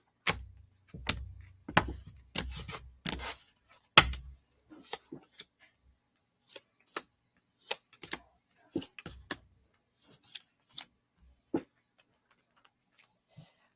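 A tarot deck is cut and shuffled by hand: a quick run of crisp card slaps and riffles, then sparse, soft taps and shuffles spaced apart in a quiet room.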